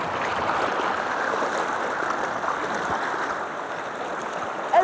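Flowing water of the upper River Tees, about five kilometres from its source, rushing steadily over smoothed, rounded bedload stones; a continuous, fairly close broadband wash with no voices.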